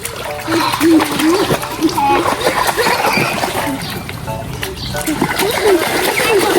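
Children splash and play in a village swimming pool, with repeated close splashes and sloshing water under lively talk and children's voices.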